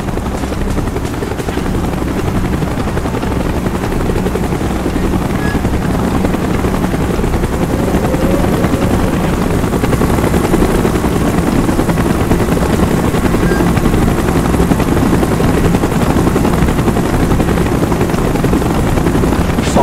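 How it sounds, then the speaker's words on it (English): Helicopter in the Call of Duty: Black Ops mission Executive Order, its rotor thumping steadily and loudly for the whole stretch, approaching with a broad, sustained roar and no talk. "Chopper's inbound! Move it!"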